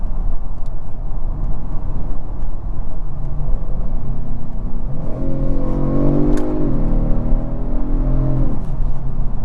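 A 2023 Kia Stinger GT2 AWD in sport mode with valve exhaust and active sound design accelerates, a constant loud cabin rumble that rises into a rising engine tone partway through, then eases off.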